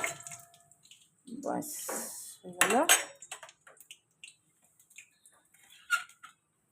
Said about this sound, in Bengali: অ্যাডজাস্ট করে রাখলাম এই একটা থালা অনেক বড় থালাটা এটা